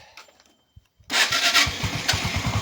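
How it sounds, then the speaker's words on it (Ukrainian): A Keeway 250 motorcycle engine turns over on a cold morning start, catching abruptly after a second of near silence and settling into a loud, close, steady throbbing idle. "Давайте подивимося, як він зранку запуститься."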